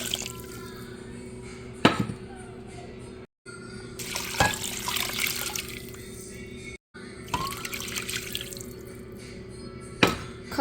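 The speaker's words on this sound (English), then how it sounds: "Add some water." Tap water runs into a pot for ham bone soup, a steady nearby splashing stream broken by a few brief pauses and clanks, with no talking.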